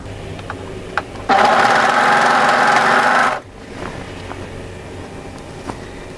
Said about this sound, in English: we're simply going to keep sewing down the side seam